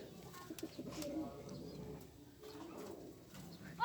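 Soft cooing of pigeons, black-headed and red-headed breeding birds, murmuring faintly and continuously at a low level with some background rustle, no talking.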